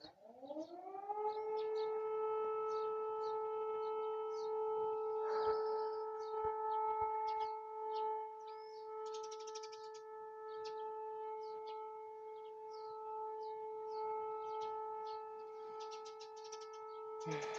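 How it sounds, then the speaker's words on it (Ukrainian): An air raid siren wails steadily and loudly across a garden of blooming roses, holding a long sustained tone throughout, with faint birds chirping in the background. "під звук сирени."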